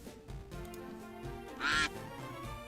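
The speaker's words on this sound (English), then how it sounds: "No, it's still quacking. I can still hear it quacking." Duck quacking from a video game plays over background game music, with a sharper, louder quack near the end rising above the steady backing.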